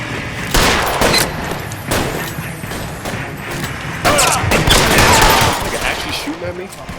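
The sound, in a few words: gunfire in the video game LA Noire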